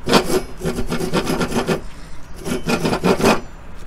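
A large hand saw rasps back and forth through wood in quick rhythmic strokes, two bursts separated by a short pause, close and clear, while building a mini pergola.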